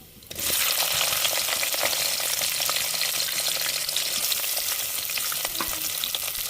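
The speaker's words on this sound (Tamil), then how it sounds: "வெட்டி வச்ச வெங்காயத்தையும் சேர்த்துக்கிறோம்" Chopped onions hit hot oil in a pan of fish curry, setting off a sudden loud, steady sizzle that holds close and bright after the first half second.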